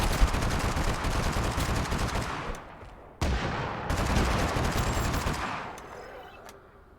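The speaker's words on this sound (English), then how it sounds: "landing shotgun shots is hard" Shotgun blasts fire in a video game as a string of loud, sharp bursts, some quick and overlapping, with a brief lull partway through and the last shots trailing off.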